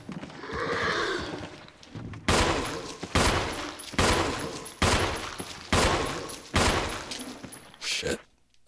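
Gunfire in the Resident Evil video game: six loud, evenly spaced gunshot blasts, each with a decaying tail, following a stretch of groaning game noise.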